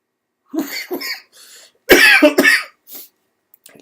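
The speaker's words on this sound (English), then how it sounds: "Excuse the coughing. Just really strong e-liquid." Someone coughs repeatedly after vaping strong e-liquid, several harsh close coughs in two clusters with a throat clear, no speech.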